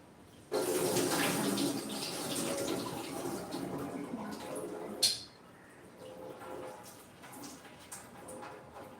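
Water pours and sloshes as sago pearls are rinsed in a bowl, followed by a sharp knock and quieter swishing and dripping.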